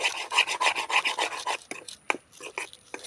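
Ingredients are stirred in a pan while cooking a dish made from idli. A quick, rhythmic scraping runs for about a second and a half, followed by softer scattered scrapes and light clinks, close up, with no talking.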